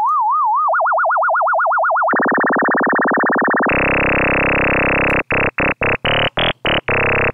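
A Xfer Serum synthesizer tone under FM modulation: a sine wobble speeds up until it fuses into a steady buzzing pitch, then grows brighter and richer before breaking into several short stuttered bursts, loud and alone.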